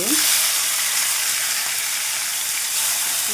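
Three or four chopped tomatoes frying in a little oil in a pan, a loud, dense, continuous sizzle and hiss that stays steady throughout, with no talking.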